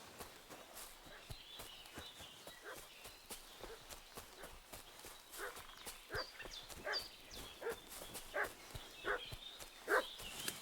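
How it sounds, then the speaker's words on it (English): A dog barking in the game Kingdom Come: Deliverance II, repeated faint sharp barks over footsteps and hoof clops, growing somewhat louder toward the end. "What's that dog making such a fuss about?"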